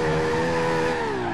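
Toyota Supra drifting in BeamNG.Drive, a sustained engine drone with a steady tire squeal that bends slightly downward, loud and continuous with no talking.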